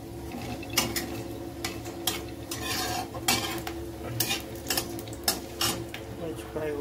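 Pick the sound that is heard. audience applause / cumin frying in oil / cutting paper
cumin frying in oil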